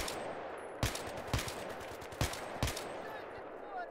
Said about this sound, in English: Entire mag drop on guy